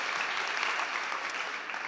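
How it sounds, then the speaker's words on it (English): Steady, dense applause from a startup competition audience fills the room, sustained without a break from start to finish with no talk. "Can we get a huge round of applause for Maria Kardakova from iCook?"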